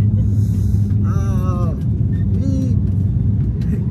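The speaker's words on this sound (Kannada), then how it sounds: "ವರ್ಸ್ಟ್ ಟೇಕ್ ಆಫ್, ಒಂಥರ ಅನ್ಸ್ಬಿಡ್ತು ಟೇಕ್ ಆಫ್" Deep, steady cabin rumble from a budget airliner during a rough takeoff on a Bengaluru to Salem flight, droning close and loud throughout while people talk over it.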